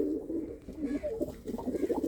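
Pigeons coo close by in low, throaty, bubbling phrases that repeat and overlap with no pause, the soft rolling calls of several birds filling the quiet.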